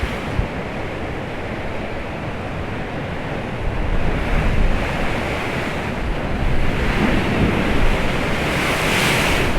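Heavy surf crashes and churns along the Paphos seafront during a gale, a loud continuous roar of breaking waves mixed with buffeting wind noise that swells louder in the second half.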